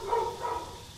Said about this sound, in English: Man, those dogs.